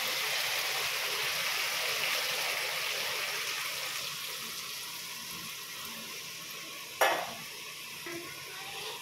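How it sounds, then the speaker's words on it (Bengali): Water poured into a pan of braised Ganges river fish for a fish curry: a loud, steady sizzle runs throughout, then a sharp hissing burst near the end as the liquid hits the hot pan. "এখন আমি জল দিয়ে দেবো"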